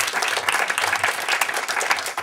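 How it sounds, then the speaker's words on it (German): Audience applause at a film festival event, a brief burst of lively clapping from a crowd, fairly close and continuous, with no speech over it. "Ein Applaus."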